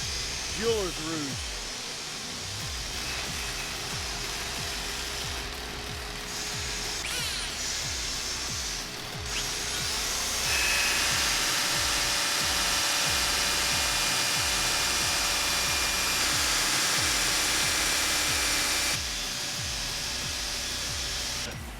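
Buffing wheel polishing a steel dent repair tool with jeweler's rouge in a toolmaking shop, a steady loud whirring motor hum that rises in pitch partway through, with intermittent speech over it.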